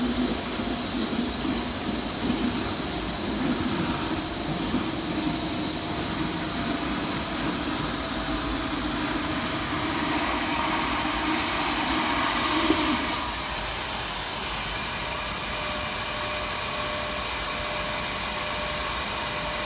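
A Karcher IVR-L 120 industrial vacuum sucks up liquid through its tube, a loud steady roaring whoosh with a gurgling rush that eases slightly after about thirteen seconds.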